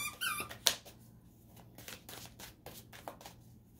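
A dog squeaks a squeaky toy indoors, giving a few sharp bright squeaks near the start. Quieter rustling and scattered clicks follow over a low steady hum.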